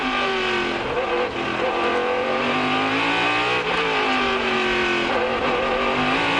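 Indy Pro Series open-wheel race cars accelerating hard around a 1.8-mile, 14-turn temporary street circuit beside Tampa Bay in St. Petersburg, engines screaming loudly and continuously with rising and falling pitch as gears change.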